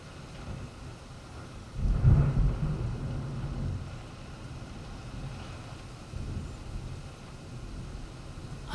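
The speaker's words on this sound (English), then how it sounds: "The storm is heading your way." An approaching thunderstorm with a deep rumble of thunder swelling then fading, a second softer roll later, over a steady wash of rain, no voices.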